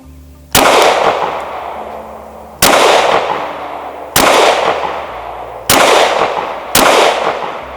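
Pistol shots fired in five-shot groups at 7.5 yards with a red dot sight mounted, five loud sharp reports spaced unevenly about one to two seconds apart, each with a decaying ring, no talking.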